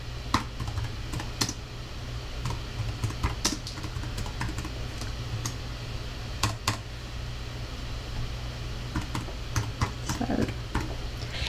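Typing on a computer keyboard at a home desk setup, steady bursts of close, crisp key clicks with brief pauses, repeating throughout over a low background hum.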